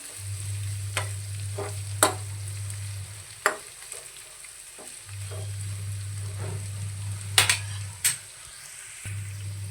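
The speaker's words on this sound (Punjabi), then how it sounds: "ਪਿਆਜ਼ਾਂ ਨੂੰ ਆਪਾਂ ਚੰਗੀ ਤਰ੍ਹਾਂ ਭੁੰਨ ਲੈਣਾ ਹੈ ਵਿੱਚ ਵਿੱਚ ਦੀ ਆਪਾਂ ਹਿਲਾਉਂਦੇ ਰਵਾਂਗੇ ਪਿਆਜ਼ਾਂ ਨੂੰ" Onions fry in a pan as a spoon scrapes and stirs them, a soft continuous sizzle broken by sharp metallic clacks at irregular intervals, with a low hum starting and stopping underneath.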